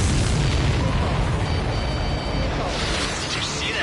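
Supply ship blowing up in the Ace Combat 7 flight game, a loud sustained rumbling boom that fills the whole moment and rolls on with crackling debris, with faint radio chatter in the background.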